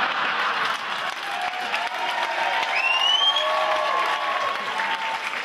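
A comedy show audience claps in a steady, even wash of applause, with scattered voices and faint whistles rising briefly above it, sustained and fairly loud throughout.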